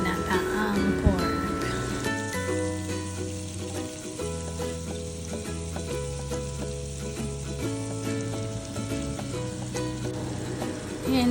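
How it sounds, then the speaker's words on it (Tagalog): Pork sautéing in a pan for ginataang pork gives a steady, continuous sizzle that sits beneath prominent background music throughout. "Kaya kailangan lang natin konting gisa-gisa lang dyan."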